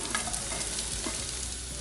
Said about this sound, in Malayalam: പിന്നെ നമ്മൾ അവിടെ സവോള വഴറ്റാൻ വെച്ചിട്ടുണ്ട്.